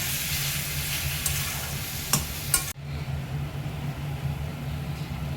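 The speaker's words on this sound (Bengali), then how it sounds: "এবার এর মধ্যে আর একটু লাল লঙ্কার গুঁড়ো দিয়ে আবার নাড়িয়ে চাড়িয়ে নিচ্ছি, যতক্ষণ না এটা ভালো করে কষা হয়" Tuna curry masala with red chili powder sizzles in a pan while it is stirred. A steady, close frying hiss is broken by a few sharp scrapes, then settles into a quieter, even sizzle.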